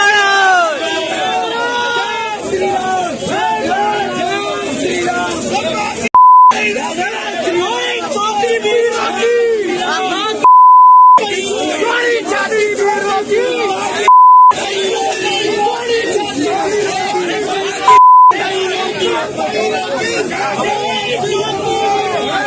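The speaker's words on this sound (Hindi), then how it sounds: "उसे मैं बीप कर रहा हूं क्योंकि वो मैं गाली आपको दिखा भी नहीं सकता हूं" Censor beeps repeatedly cut over abusive shouting in a news clip of an attack on a Congress party office in Amethi, four steady tones each about a second long interrupting loud crowd chatter and argument.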